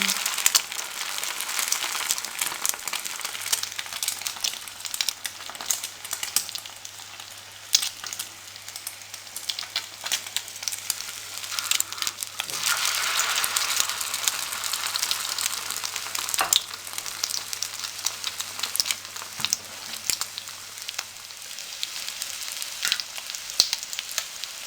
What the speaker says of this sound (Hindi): अभी नीचे से अच्छे तरीके से ये फ्राई हो जाएं